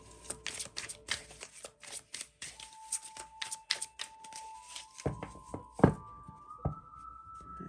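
Tarot cards riffle and slap softly in a quick shuffle, followed by a few taps and knocks as single cards are pulled and set down, close up and alone without talk.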